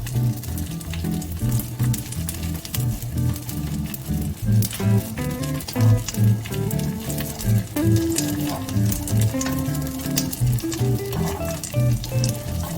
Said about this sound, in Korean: 강불에서 잘 뒤적이면서 볶아주세요.